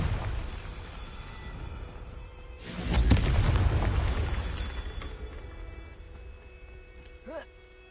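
A Confringo blasting spell bursts in Hogwarts Legacy, a loud booming blast with a rumbling tail that fades over a few seconds, set against quieter background ambience.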